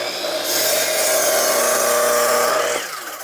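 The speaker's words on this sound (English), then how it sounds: "Let's head to the miter saw, cut those posts." A miter saw cuts through a wooden deck post in one loud, steady pass lasting about two and a half seconds, the blade's whine holding close and even before it spins down.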